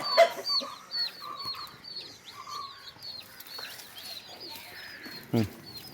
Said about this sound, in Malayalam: ഞങ്ങളുടെ വലിയ കോഴികൾ 3 മുട്ട ഇട്ടേക്കുന്നു.